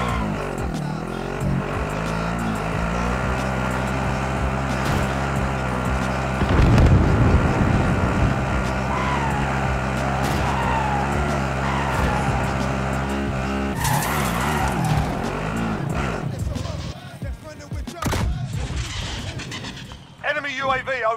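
A vehicle driving in Call of Duty: Modern Warfare, its engine droning steadily with tire skids and squeals, then a stretch of chaotic crashes and bangs toward the end, with speech mixed in.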